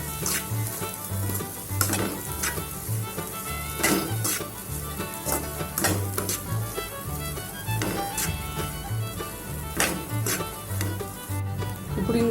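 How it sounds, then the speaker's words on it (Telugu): A spoon keeps stirring egg fried puffed rice (maramaralu) in a hot pan, producing a steady sizzle with irregular scraping clicks and soft rustling of the grains throughout. "ఈ విధంగా మొత్తం కలిపేసుకుందాం."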